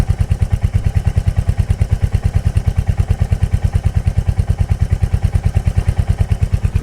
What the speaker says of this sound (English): it settles into a nice, lopey, healthy idle